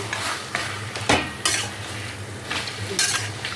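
Mutton is stirred and sautéed on high flame for a curry, a loud sizzle overlaid with repeated metal spatula scrapes and clinks against the pan, several close strokes at an uneven rhythm.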